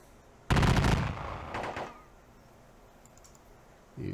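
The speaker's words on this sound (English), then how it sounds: "that was musket and rifle and cannon fire" Musket, rifle and cannon fire in an American Civil War strategy game depicting the Battle of Perryville: a loud crashing volley, a second shorter burst of shots soon after, then a fresh report starting at the very end.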